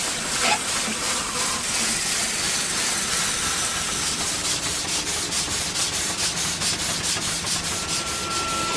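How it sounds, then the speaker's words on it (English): A steam engine in a garden chuffs in a fast, regular rhythm under a constant hissing rush of steam, close and loud throughout. "Here in my garden, I've got a steam engine"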